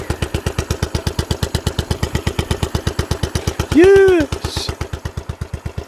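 A Royal Enfield Bullet Machismo 500 single-cylinder engine idles close by with an even, loud thump-thump beat, and a voice briefly shouts over it before the steady pulsing resumes.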